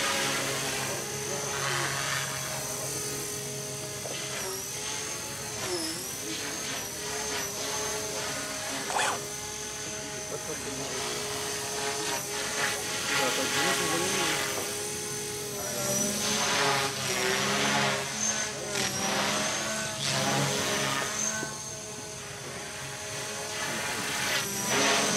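A radio-controlled model helicopter with three rotor blades flies close by, a loud, continuous whine and rotor buzz that rises and falls in pitch as it maneuvers, with faint background chatter.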